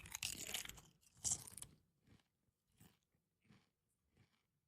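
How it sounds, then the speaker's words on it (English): A crunchy chip is bitten and chewed with an open mouth close to the microphone: a loud initial crunch, a second bite, then several quieter spaced chewing crackles. "I want you to chew with your mouth open so we can hear the crunch sound better."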